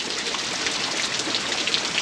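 Steady rain falls in late May after weeks of wet weather, heavy enough to overwhelm the gutters: a dense, even hiss of drops on surfaces, close and continuous, with no voices.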